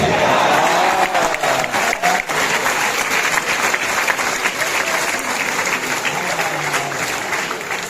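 Audience at a Hindi kavi sammelan poetry gathering breaking into loud, sustained applause that fills the whole stretch, with a crowd murmur and a voice faintly audible beneath the clapping.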